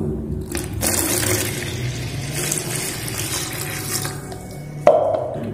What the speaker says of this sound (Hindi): मैं इसमें और आधा लीटर पानी जो है डाइल्यूट कर रहा हूं